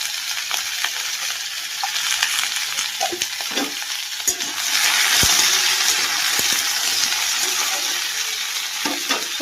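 Mixed vegetable curry with cabbage, pointed gourd, eggplant, potato, pumpkin, carrot and radish sizzling in a pan while being stirred, a loud continuous frying hiss with scraping strokes of the spoon, no talk.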